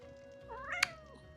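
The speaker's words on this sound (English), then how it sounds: "Heard a cat committing sins" A single close cat meow, rising and sharply peaking before fading, over a quiet indoor room with a steady background hum.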